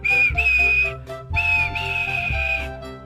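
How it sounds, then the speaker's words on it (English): A steam whistle sounds twice, loud and close, each blast a bright sustained tone lasting about a second. "he blew his whistle"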